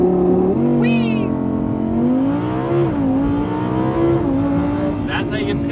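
A 2020 Audi R8 V10 Performance Spyder accelerates hard from a stop, its engine note climbing through the gears in loud rising sweeps with brief dips at each shift. A whoop of excitement comes near the start.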